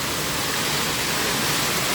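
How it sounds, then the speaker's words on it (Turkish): In Eskişehir, heavy rain laced with hail drums steadily on a rooftop, producing a thick, continuous rushing noise that stays loud and even, with nobody speaking. "Evet arkadaşlar dolu yağdı çatın üstünde bak şurada."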